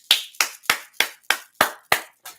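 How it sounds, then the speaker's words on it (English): Hands clap eight times in a steady, evenly spaced rhythm, each sharp slap close and distinct with brief room ring after it, the last one softer. "Y'all can hear me clap my hands"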